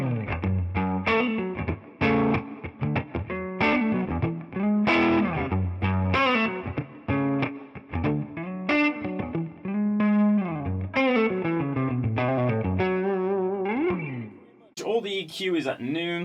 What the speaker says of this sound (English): without any pedals, this is what the lead gain channel sounds like on the neck pickup.